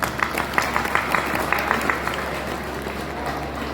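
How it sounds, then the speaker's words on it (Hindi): A crowd applauds, a dense rush of clapping with several sharp peaks at the start that keeps going steadily at moderate loudness for the whole stretch, no speech over it. "एक बार जोर से तालियां बजा लीजिए।"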